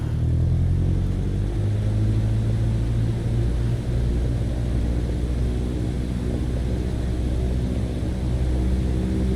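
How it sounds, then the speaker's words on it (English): Sustained loud aircraft engine roar at full takeoff power in Microsoft Flight Simulator 2020, a steady low droning hum with a faint propeller-like throb, constant and close throughout with no talking. "Apply full power and I'll walk you through the takeoff as we go."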